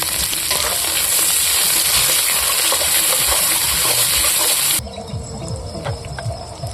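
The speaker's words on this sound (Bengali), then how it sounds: "তেল গরম হয়ে গেছে, এখন আমি তেলের মধ্যে তেজপাতা দিয়ে দেব। এখন দেব গোটা রসুন আর পেঁয়াজ কুচি।" Bay leaf, whole garlic and chopped onion fry in hot oil for a goat mutton curry, a loud, steady sizzle that suddenly drops to a softer crackle near the end.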